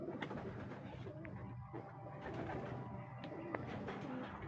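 Racing pigeons cooing nearby, soft throaty coos and murmurs from several birds over a dense, steady background rumble.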